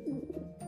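Soft, low pigeon cooing in a short continuous burble, close and moderately quiet, with no one talking.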